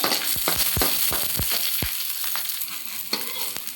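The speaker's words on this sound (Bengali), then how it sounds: "এই যে পেঁয়াজ পেঁয়াজগুলো একটু ভেজে নেব" Onions and garlic frying in a pan make a steady close sizzle, with a run of quick scraping stirs of the spatula early on and a louder clink near the end.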